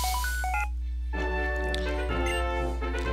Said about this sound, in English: And we get a random phone call, okay.